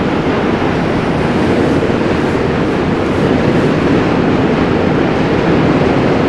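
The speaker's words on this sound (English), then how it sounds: "So if you keep hearing all those trains" Trains crossing the Manhattan Bridge in New York on an early morning, a loud continuous rumbling roar of rail cars that holds steady and swells slightly toward the end, with no voices.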